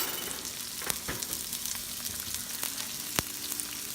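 Garlic and onions fry in a pan for pata tim, a soft steady sizzle punctuated by a few sharp clicks and taps of a utensil, fairly quiet, with no talking.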